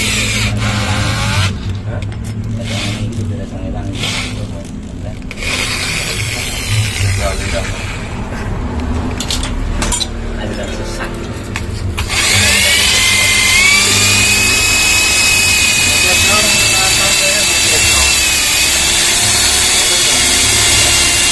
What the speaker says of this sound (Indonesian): Jadi siapin bor.